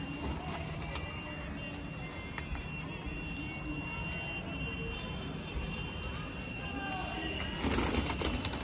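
A Shahjahanpuri green pigeon coos softly and steadily close by while pecking at grain, over a constant background hiss, with a louder rustling burst near the end.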